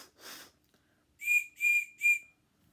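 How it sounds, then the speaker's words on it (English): A 2-in-1 whistle is blown in three short, shrill blasts with a steady tone, close and loud, after a brief breathy puff at the start. "The whistle is basically just like this."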